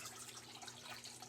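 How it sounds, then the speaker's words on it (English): Water drains from a Magic Chef 1.6 cu. ft. portable washing machine, a faint, steady trickling and gurgling flow over a low background hum, brief and continuous with no talk. "This is what it looks like when it drains."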